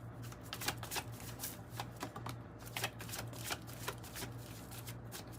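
A deck of oracle cards is shuffled and pulled for a tarot reading, with quick repeated riffling and flicking bursts, close but quiet, and no talking.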